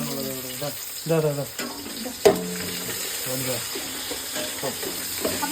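Curry leaves fry in hot oil for a chicken curry, giving a steady sizzle with crackling bursts and one sharp pop, while a person talks over the cooking.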